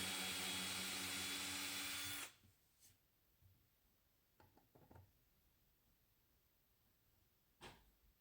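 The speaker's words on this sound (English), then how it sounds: "took a while to drill through, but it got there eventually" A power drill drilling through laminate furniture whirs loudly for about two seconds, then cuts off, leaving quiet with a few faint knocks and clicks.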